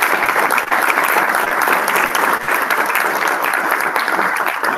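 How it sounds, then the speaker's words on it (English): Steady, dense applause from a sizable conference audience, loud and continuous throughout with no pauses, a few faint voices mixed in beneath the clapping. "Let's give a round of applause for them."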